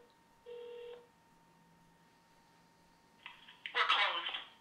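Touch-tone telephone dialing: a steady dual-tone beep near the start, a long quiet stretch, then a rapid burst of keypad tones toward the end, fairly clear above a faint background hum.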